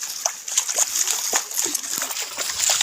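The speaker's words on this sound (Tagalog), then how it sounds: "ang sarap ng ilog. Sarap maligo." Water splashing and sloshing as people bathe in a river along a remote mountain trail, with repeated short splashes in an irregular rhythm, close by and moderately loud, and brief voices in the background.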